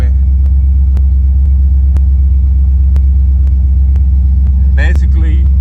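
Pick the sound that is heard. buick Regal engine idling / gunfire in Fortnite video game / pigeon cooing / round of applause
buick Regal engine idling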